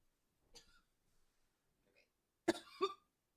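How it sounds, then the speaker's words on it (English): Two sharp, close coughs directly into a microphone come in quick succession after a few faint breathy sounds in an otherwise quiet room. "I'm sorry for coughing into the mic"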